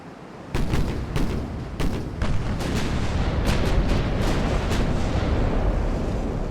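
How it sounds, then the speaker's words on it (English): Heavy naval gun volleys from warships in the Ultimate Admiral: Dreadnoughts game, set in an 1890-era naval battle between Italy and France, with repeated loud booming salvos over a dense, continuous rumble of battle. "That was a bad volley."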